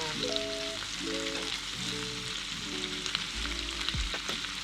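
Crayfish fry in a pan with saffron and chili, giving a steady, close sizzle that runs the whole time, with no voices over it. A low hum sits underneath, and a brief thud comes near the end.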